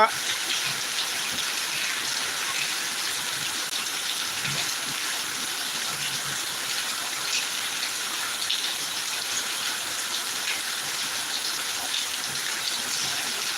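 Heavy rain falls in Thiruvananthapuram, a continuous close wash of drops on surfaces that stays steady and unbroken from start to finish.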